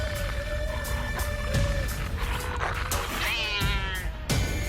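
A cat hisses and yowls in long, wavering, rising and falling caterwauls over a steady low background rumble, nearby and fairly loud, with short broadband bursts breaking in.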